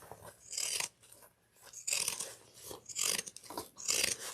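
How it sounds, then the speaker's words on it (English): Pinking shears crunch through fabric seam allowance in a series of close, crisp cuts, each snip a short rasping burst separated by brief pauses. "I also like to trim my seam allowance here to 1/4 of an inch, and I like to use again, pinking shears"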